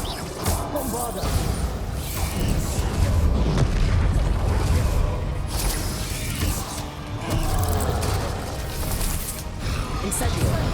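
Bombarda spell explosion in the video game Hogwarts Legacy, a loud booming blast amid dense continuous combat rumble and clatter, with a voice talking over it.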